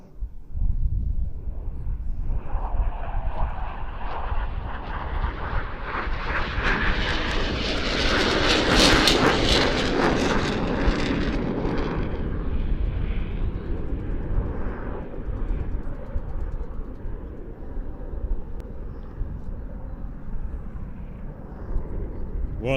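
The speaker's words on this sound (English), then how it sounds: "What a sight, staring into the thrust buckets of those RB-199s with the reheat engaged." Jet aircraft with RB-199 engines on reheat and wings swept back, making a slow airshow pass at Leszno: a loud roar swells to a peak and fades to a long rumble, with wind buffeting.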